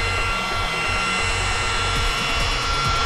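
A Makita rotary polisher runs continuously at a lowered speed of about 1,400 during paint correction, a loud, steady motor whine with a rough rubbing rumble underneath and no talking.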